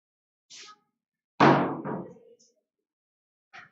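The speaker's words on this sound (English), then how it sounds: "I am closing another door." A door shuts with a single loud thud, a short burst of softer movement just before and a faint knock-like tap trailing at the end, heard alone in a quiet room.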